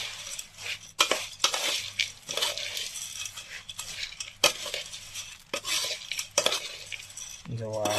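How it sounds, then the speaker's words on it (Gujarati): Jhalmuri, puffed rice with lemon juice, being tossed in a bowl, giving a run of close, lively metallic clinks and scraping rustles from a spoon against the bowl, with brief pauses between bursts. "હવે આપણે ફરીથી મિક્સ કરી લઈએ"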